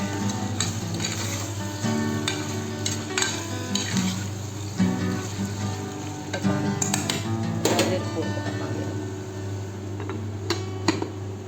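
Aloo kadhi stirred and cooking in a pot: a steady bubbling sizzle with scattered scrapes and clinks of a utensil against the pot, fairly close and continuous, with no talk.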